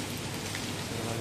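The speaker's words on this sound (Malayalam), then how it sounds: "ഇവിടെ നല്ലൊരു മഴയാണ്" Steady rain falls outside an IBM office in Bangalore, making a brief, even hiss of drops with no other sounds.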